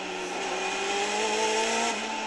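Heard onboard, a British Superlite race car's engine climbs in pitch through the gears and then drops at a shift, with a steady roar and faint tyre noise on the track.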